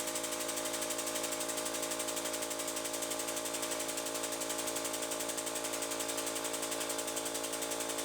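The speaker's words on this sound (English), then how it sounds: "So that little air compressor, not the best for this." A small, roughly 8-gallon air compressor runs steadily in a garage during a Mustang engine swap, a loud continuous motor drone with a fast even pulsing and no pauses.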